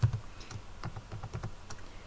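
Keys tapped on a computer keyboard in an irregular run of light clicks, close and fairly quiet, with no talk.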